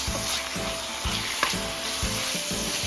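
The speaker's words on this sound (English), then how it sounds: "browning our cashews. We're going to give them a quick little roast" Cashews roast in a hot pan for a Thai chicken and cashew dish, hissing with a steady loud sizzle while a utensil stirs them in regular scraping strokes about twice a second.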